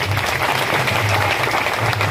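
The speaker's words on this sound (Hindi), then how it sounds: "आपके सामने बड़ा जोरदार ताली से इस्तेमाल करें" A crowd at a political rally in Jammu claps steadily and loudly to welcome Ghulam Nabi Azad, forming a thick, continuous wash of applause.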